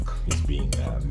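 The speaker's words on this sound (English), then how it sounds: "cheese with the flour and get it all mixed in, but I'll use a knife for this purpose" A knife scrapes and stirs grated cheese into flour in a mixing bowl for cheese scones, a close, continuous gritty rasping with a couple of sharper strokes.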